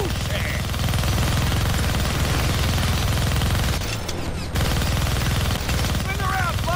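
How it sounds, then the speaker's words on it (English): Sustained minigun fire in the Deadpool video game on PC, a dense rapid stream of shots running almost the whole time with a brief break near the middle, loud and close, with voices speaking over it. "Gonna need both hands to shoot that minigun."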